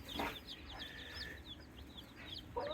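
Baby chicks peep in quick, high chirps while eating, close and fairly faint, with a low background rumble and no talking.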